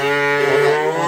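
A cow lows with a long, steady harmonic moo at a livestock market where heifers and bulls are sold, close and loud for about a second with no talk over it.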